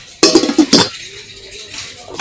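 Enamel pots clank and knock together a few times in quick succession, close by, followed by quieter rustling handling.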